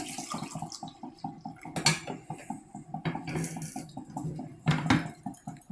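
Navy coffee drips and trickles from a spring-loaded coffee maker as the last two cups pour down. It is a quiet, steady, rhythmic patter, broken by a few louder clinks and splashes.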